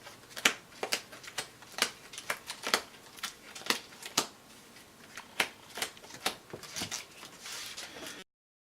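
Card decks from the Heroes board game being shuffled by hand on a table: a quick series of crisp, close snapping and riffling clicks at an uneven rhythm, fairly quiet, with no talking.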